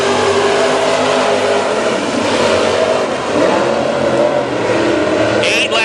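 Super Stock race cars on a dirt oval roar off at the green flag of a heat race, a loud, dense pack of engines revving hard and rising in pitch, with an announcer's voice faint underneath.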